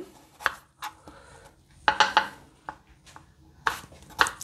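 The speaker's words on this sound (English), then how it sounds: "Now I am going to cut that red onion." Knife chopping a red onion on a board: irregular sharp taps, single cuts and quick pairs spaced by pauses, close and fairly quiet.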